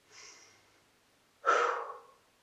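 One soft inhale is followed by a louder, deeper breath let out through the nose and mouth, two distinct breaths close to the microphone and otherwise quiet.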